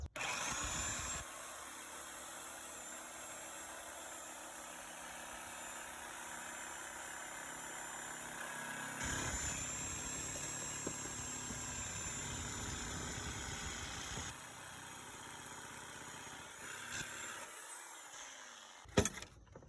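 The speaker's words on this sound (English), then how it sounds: "we got that recip saw in there with a hacksaw blade, metal cutting blade, and we've already gone through one nail" A reciprocating saw fitted with a metal-cutting hacksaw blade cuts through nails under settled deck stairs, giving a long, steady, close buzzing whine that briefly stops and restarts before a final clunk.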